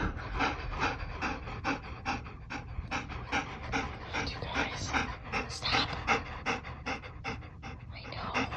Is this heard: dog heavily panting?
yes